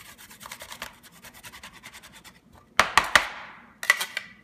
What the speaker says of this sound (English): use my carrot grater, and I just go up and down on the small one